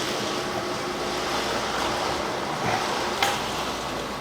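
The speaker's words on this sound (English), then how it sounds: "That sound of the ice at the end and the water means that you're towards the end of your shift" Ice and water pour out in a broad, steady rush at the end of a large crab batch in a busy seafood restaurant kitchen, a continuous hissing wash with a faint clunk near the end.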